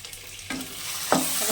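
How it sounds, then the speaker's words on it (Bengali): Ingredients for a Bengali bean-paste bharta fry in mustard oil, a steady close sizzle broken by two sharper scraping stirs of the spatula, no voices. "এরকম করে শুকনো শুকনো করে ভেজে নিতে হবে যত সময় শুকনো হবে তত সময় নেড়ে যেতে হবে"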